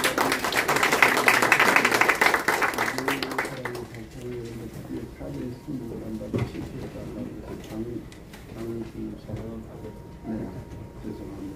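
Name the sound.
audience applause welcoming a speaker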